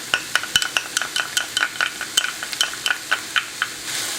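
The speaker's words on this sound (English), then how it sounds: "Just stir that evenly." A utensil scrapes and taps around a pan as chili powder and yellow mustard are stirred in, a quick regular run of sharp clicks and strokes over a faint sizzle, close and without talk.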